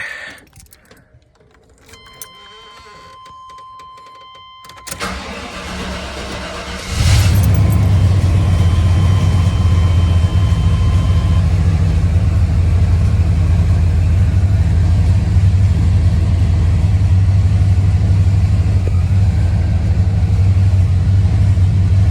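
A 5.7-litre Chevy V8 in a 1988–95 Chevy/GMC truck, just fitted with new spark plugs, cranks briefly and fires up, then settles into a loud, steady, close idle with a slightly unsteady rumble.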